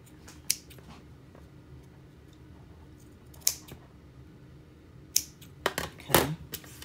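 Scissors trimming during a jewelry craft project, heard as several sharp snips spread out near the mic, with a louder cluster of cuts toward the end in a quiet workspace.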